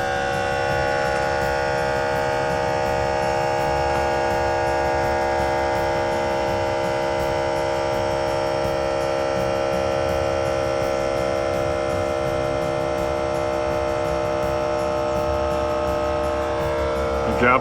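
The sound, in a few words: Air Lift WirelessOne on-board air compressor running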